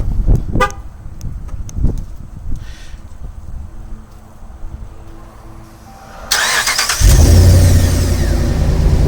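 A truck is started by remote start: after quiet clicks and a short chirp, the engine cranks and catches, settling into a loud, steady idle close by.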